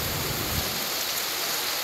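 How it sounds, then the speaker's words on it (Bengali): Steady rain falls after a storm, a dense, even wash of drops heard up close for a couple of seconds with no voices. "তো ঝড়ের পর ফাইনালি বৃষ্টি এসেই গেল, দেখো।"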